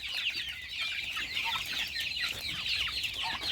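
Young chickens cluck and peep in a busy, high-pitched chatter, close by and fairly soft, with no talking.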